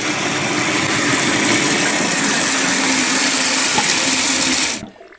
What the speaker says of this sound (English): Once it's done flushing, you're going to take it, just going to lean it against the edge of the bowl here